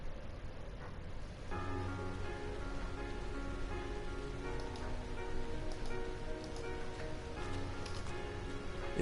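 Steady rain falls in the video game Trails of Cold Steel, a continuous even patter with soft background music tones running beneath it, no voices.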